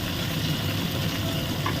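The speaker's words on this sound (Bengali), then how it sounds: "বেশ লালচে কালার করে ভেজে নিচ্ছি" Khoira fish frying in oil in a pan, giving a steady, dense sizzle that holds at an even level from start to end without breaks.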